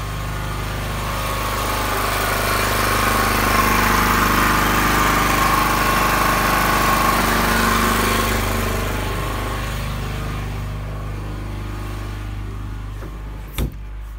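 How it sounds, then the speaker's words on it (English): An old pull-start petrol generator runs with a steady, loud droning engine hum and a constant low rumble, sustained close by throughout with no talking. "So that generator is a pull start petrol generator."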